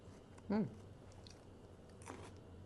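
A bite into a crunchy, prickly raw garden vegetable, one close loud crunch near the start followed by faint quieter chewing noises, with no talking.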